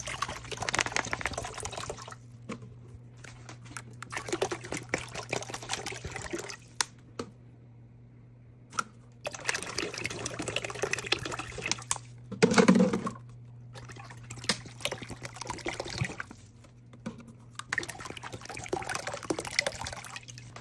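Water pours in several long, steady gushes into a pot for boiling tea, with short quiet pauses between each pour.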